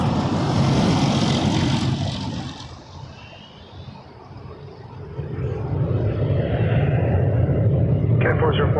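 A Piedmont Embraer ERJ 145 LR regional jet roars at Toronto Pearson, loud at first, fading for a few seconds, then swelling again; no talk is heard.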